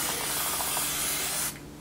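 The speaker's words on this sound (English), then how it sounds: "Just spray it directly to the hairline" A spray bottle mists product directly onto a wig's hairline in one long, close, steady hiss that cuts off abruptly, followed by a short quiet tail with a faint tap.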